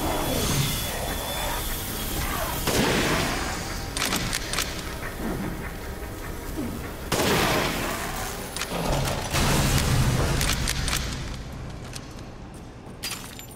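Gunfire in Resident Evil Village played in VR mode, several sharp shots spaced irregularly through dark corridor ambience, loud and close with echoing tails and game noise between them.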